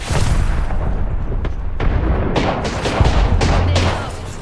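A frag grenade thrown and detonating in Apex Legends, amid a dense run of loud booming blasts and gunfire-like bursts that stay heavy and continuous throughout.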